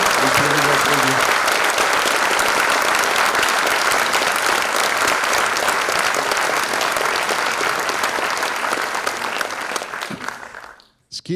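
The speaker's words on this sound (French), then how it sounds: "Rama Rajamouli, vous pouvez l'applaudir." A full hall applauds at a filmmaking masterclass, continuous loud, dense clapping from a large crowd that holds steady for about ten seconds before trailing off sharply at the end.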